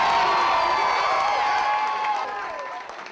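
UWM students crowded into a campus viewing room cheer for the Wisconsin Badgers, loud yells and whoops with some clapping that swell at first and then gradually fade.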